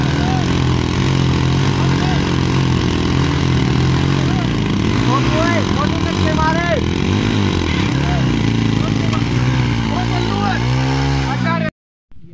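Two Hero HF Deluxe motorcycles, a 2021 and a 2017 model, are tied together in a tug of war with their engines revving, a wavering drone that runs for about twelve seconds under people shouting and talking, then cuts out.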